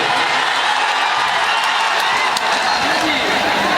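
A large outdoor crowd at a stage event in the homeland of Veer Kunwar Singh claps and cheers in a dense, continuous wash of applause that stays loud and steady throughout.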